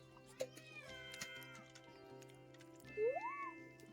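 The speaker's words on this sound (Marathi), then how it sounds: "हा ही दुसरी मांजर." A cat gives a single rising meow near the end, moderately clear above a steady low hum and faint scattered noises.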